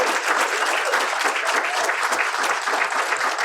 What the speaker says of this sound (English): but give yourself a round of applause.